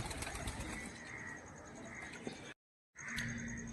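Pigeons gather around scattered feed outdoors, with soft cooing and fluttering wings heard close by over a steady ambient hiss, briefly cut off near the end before resuming.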